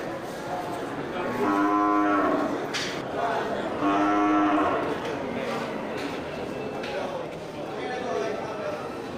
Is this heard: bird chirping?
no